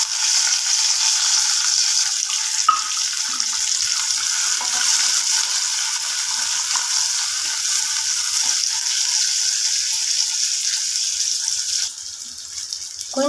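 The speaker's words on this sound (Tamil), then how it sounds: "இப்போது கீரை பொரியலுக்கு வரமிளகாய், சின்ன வெங்காயம், கடலப்பருப்பு, உளுந்து இதை சேர்த்திக்கலாங்க." Dried red chilies, shallots, chana dal and urad dal fry in oil in a pan for a spinach poriyal, giving a steady, close sizzling hiss that runs evenly throughout with no talking.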